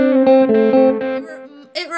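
Electric guitar notes run through a Dogman Devices Air Delay and Fuzz pedal, sustained and buzzy with echoing repeats, ending on a brighter chord.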